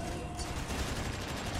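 Ship-mounted guns firing in the space game Miner Wars, a continuous dense rattle of rapid shots held steady and close throughout the short stretch.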